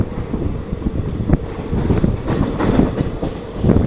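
A passenger train runs along the track toward Shoranur junction with a loud rumbling roar, irregular wheel clatter and wind buffeting close to the microphone, with no voices.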